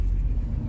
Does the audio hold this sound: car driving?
yes